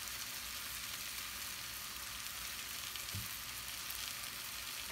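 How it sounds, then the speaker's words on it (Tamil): Tomatoes with salt fry quietly in a pan for a Malabar fish curry, a soft, even sizzle that stays low and steady, with a small clack at the very end. "கொஞ்சோண்டு உப்பு தக்காளி பழம் கொஞ்சம் வதங்கிறதுக்கு சேர்த்துக்கிறேன்."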